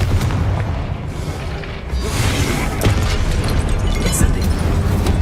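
Confringo fire-blast spell explosions in the Hogwarts Legacy video game, loud, heavy booming blasts with crashing debris over a continuous rumbling combat din, close and sustained.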